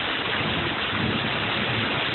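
Steady, dense rain falling during a thunderstorm, heard from indoors as a continuous even hiss with no distinct thunder claps and no voices.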